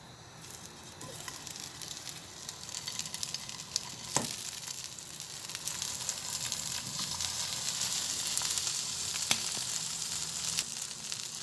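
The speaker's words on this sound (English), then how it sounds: "we're gonna put it into the pan here and cook it. Toast it up to crispy." Spam slices crisp up in a frying pan, giving a soft, continuous, fairly quiet sizzle with faint crackles and a couple of small clicks, with no voices.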